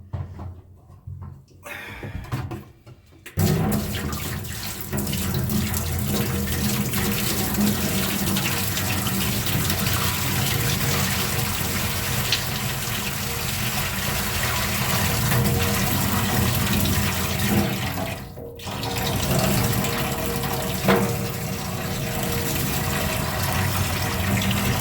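Water runs steadily from a tap into a stock tank bathtub in a tiny house build, a continuous close rushing splash that pauses briefly once midway, with no speech.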